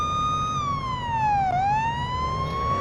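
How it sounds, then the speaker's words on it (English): A police car siren in the Police Simulator: Patrol Officers game wails steadily, sweeping down and back up in pitch. It is loud and close, with no other sound over it. "if you have cars that are stuck, what you want to do is go put on your sirens"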